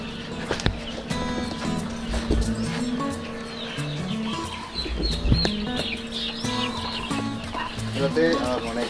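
A flock of one-month-old chicks on a farm in Magpet, North Cotabato clucks and cheeps in repeated bursts, close and busy, with people talking in the background.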